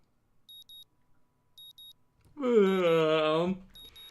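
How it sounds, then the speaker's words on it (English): A morning alarm clock in the Katawa Shoujo video game gives short paired electronic beeps at regular intervals, interrupted by a brief loud tonal game sound effect before the beeping resumes. "My morning alarm goes off"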